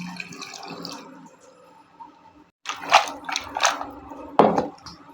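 Two tumblers of water splash into a pressure cooker holding turmeric and salt for a moong dal tomato pachadi, coming as separate close pouring bursts after a brief pause.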